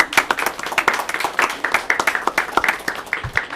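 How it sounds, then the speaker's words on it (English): A small group at a session meeting gives a round of applause for visiting scouts, with distinct individual hand claps in a brisk, uneven rhythm, fairly close and lasting a few seconds. "How about a round of applause for these gentlemen?"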